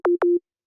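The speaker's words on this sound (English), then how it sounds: "you can hear it becomes more and more of like a click" Ableton Operator synth tone with a fast downward pitch envelope and short decay, giving two quick clicky blips in succession, clean and close with nothing else present.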